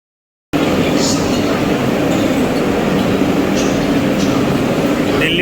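Vande Bharat train running between Delhi and Agra, a steady loud rumble of wheels and carriage noise filling the whole stretch without a break after a short silent start.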